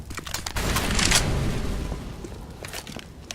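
In Counter-Strike: Global Offensive, an incendiary grenade bursts into a loud, crackling whoosh of fire that swells and then fades over a few seconds, with faint clicks around it.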